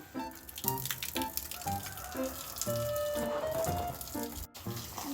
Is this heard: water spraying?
yes